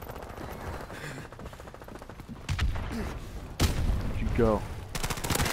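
Video game gunfire from Call of Duty Remastered, including assault rifle bursts, crackles in rapid volleys with sharp individual shots and a couple of heavier thumps, under occasional player talk.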